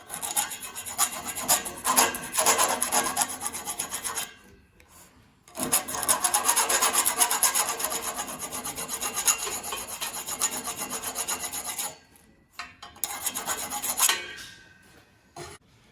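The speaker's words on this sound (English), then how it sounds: "File the burr left from drilling the holes." A metal file rasps steadily across the drilled motor shaft of a split boss coupling, scraping the burr away in long rhythmic strokes, close up, pausing twice between bursts.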